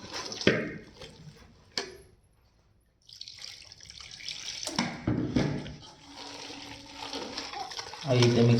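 Water being poured into a bowl of fenugreek fritter batter, a close splashing trickle with stirring and bowl clatter, pausing briefly before resuming in uneven bursts.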